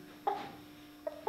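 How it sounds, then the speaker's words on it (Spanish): A small bantam rooster gives a few soft, short clucks, quiet and close, with pauses between them. "Aquí tenemos un gallito de esos maracayos que llaman enanito"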